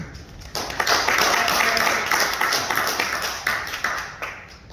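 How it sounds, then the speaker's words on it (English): Applause from the public at a Rowlett city council meeting starts after a short pause and holds as steady, dense clapping in a mid-sized room, with a few voices mixed in. "How did you get applause and he didn't?"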